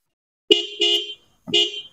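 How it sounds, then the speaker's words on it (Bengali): A faulty car horn being tested during a vehicle service, sounding three loud, close honks of uneven length with brief gaps between them. "ওই যে হর্নটা একটু সমস্যা দিতেছে"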